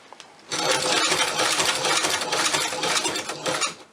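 A ShoePatcher leather sewing machine runs backwards on a backstitch, making a steady, dense mechanical whir that lasts about three and a half seconds with no talking.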